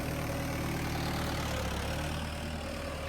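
Vehicle engine running steadily in high first gear at a fixed low RPM, a continuous loud drone with a low harmonic hum held evenly throughout, no talk.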